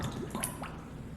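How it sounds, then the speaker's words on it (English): Water poured into an empty flask, with soft close drips, squishy splashes and a brief gurgle, quiet and alone. "Here's the empty flask, and we're going to fill this complete with water"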